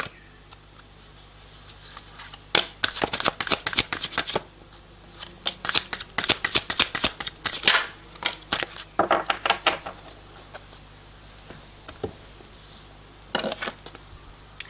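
A deck of cards being shuffled for a card reading: repeated bursts of crisp riffling and flicking, some short and some longer, separated by brief pauses.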